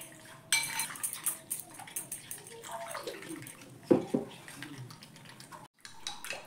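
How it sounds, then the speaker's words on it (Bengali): A thin salted batter is whisked with water in a bowl, bursts of utensil clinks against the dish mixed with wet sloshing, close and intermittent. "এবার জল দিয়ে আমি একটা পাতলা গোলা রেডি করব।"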